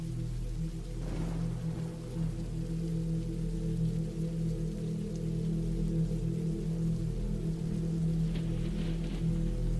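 Steady rain falls on a surface around a woodland cabin, a constant dense hiss that stays even throughout with no voices, plus a faint patter burst near the start and again near the end.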